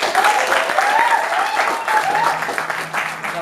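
Audience applause after a book launch at a monodrama event in Bandung, a steady wash of many hands clapping throughout, with faint voices and whoops beneath the clapping.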